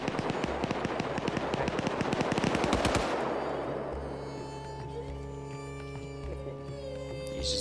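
A long burst of rapid automatic gunfire empties a magazine at a car in a video game, loud and close for about three seconds, then gives way to ringing, crackling aftermath and low rumbling.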